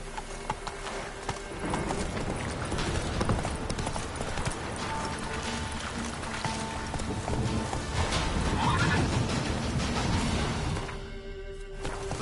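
Roach, a horse in The Witcher 3, whinnies while her hooves clop in a steady rhythm throughout, loud and close, with a brief quieter stretch near the end.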